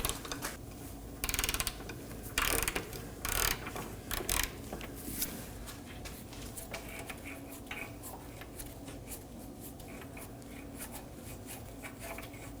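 A ratchet works loose the subframe bolts on a 2020s Toyota Corolla during a front control arm job, giving several bursts of rapid clicking near and distinct, then lighter ticking and creaks.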